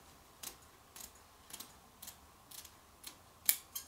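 Scissors snip through scrap fabric for a rag rug in a steady series of about eight crisp, quiet cuts spaced roughly half a second apart, close by in an otherwise hushed room.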